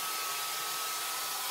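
A compact Titan wet-dry vacuum cleaner from Brico Depot runs with a loud, steady high-pitched whoosh of motor and airflow, close by and unbroken, with no voices.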